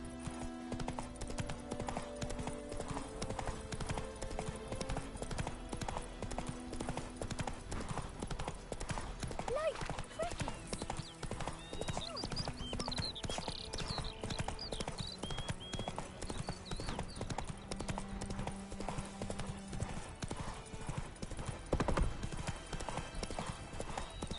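Roach the horse gallops in The Witcher 3, hooves clip-clopping in a steady, continuous rhythm, with a voice and game sounds layered on top.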